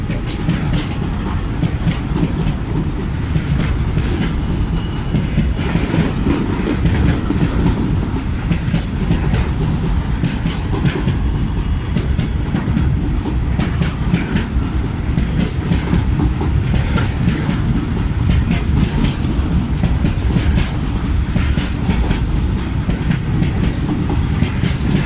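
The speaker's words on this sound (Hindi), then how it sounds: "This is a very very magical rail movement guys." A WDM-3D diesel locomotive hauls a train along the rails with a steady, loud rumble and a continuous rhythmic clatter of wheels over track joints. No voices are heard.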